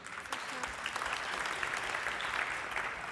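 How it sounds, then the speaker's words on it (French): A concert audience applauds a child brought up on stage during an orchestral performance, a broad, even wash of clapping heard from a distance, with faint voices mixed in. "Tout le monde t'applaudit, tu vois."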